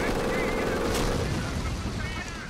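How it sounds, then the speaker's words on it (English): Machine gun and mortar fire in the strategy game Company of Heroes, with a dense continuous rattle of gunfire and booms mixed into a busy battle soundscape, loud and steady throughout. "we got mortars and a machine gun shooting at those guys"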